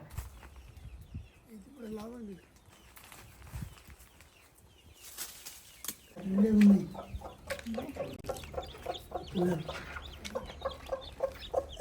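Hens clucking on a farm where chickens hatch eggs naturally under a brooding hen, with soft intermittent clucks that grow into a burst of louder, repeated clucking alongside speech.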